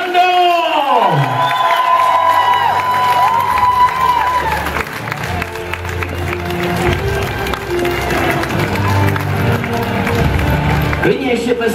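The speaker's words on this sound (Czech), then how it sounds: "Klidně ještě tleskejte" Audience at a school ceremony in Jindřichův Hradec, a loud crowd cheering, whooping and clapping in a sustained wash, with a voice over a loudspeaker at the start and shouting mixed in.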